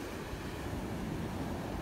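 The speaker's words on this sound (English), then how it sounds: "as the water comes up on the shore" Ocean waves wash up onto a beach in a steady, continuous low rumble of surf, with some wind noise on the microphone and no voices.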